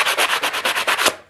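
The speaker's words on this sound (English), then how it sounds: "let's sand that one down and clean it" Rhythmic back-and-forth rasp of 100 grit sandpaper worked by hand over a Ferrari 355 part, about nine quick close strokes in a row ending abruptly.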